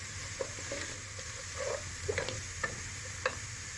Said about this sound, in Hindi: अब इसको भी साथ हम लाइट सा फ्राई कर लेंगे ताकि अच्छी सी खुशबू आने लगे।